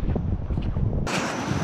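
Strong wind at a seaside motorcycle campsite in Calatagan, Batangas, buffeting the microphone in a continuous rough roar that shifts to a brighter hiss partway through, with no talk.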